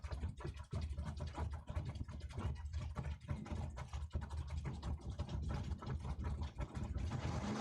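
Drag race cars rumble at a dragway, engines idling and revving in a low, gritty drone with crackling bursts, distant and continuous.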